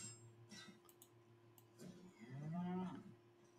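A cow moos once in the video game Albion Online, a low drawn-out bellow at moderate loudness over quiet game ambience with faint ticks.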